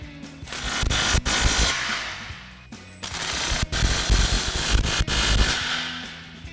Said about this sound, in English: Now we can start tightening down our clamps using our 15 millimeter socket on our impact.